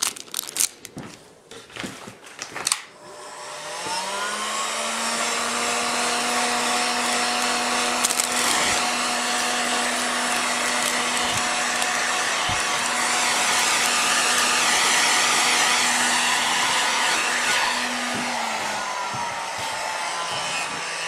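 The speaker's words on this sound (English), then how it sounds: "with a heat gun you can get on it fast enough to" A heat gun warms a plastic screen protector for a metal detector: after a few handling clicks it switches on into a steady whining blower roar, runs about fifteen seconds, then winds down and shuts off.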